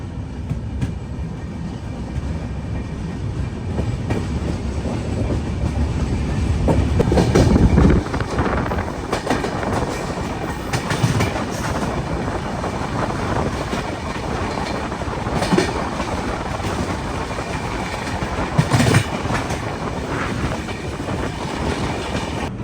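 A Kumbh Mela special passenger train running on rails out of Shahdol toward Anuppur, with a continuous rumble, rhythmic wheel clatter and occasional metallic clanks and squeals, heard from inside the carriage with no talking.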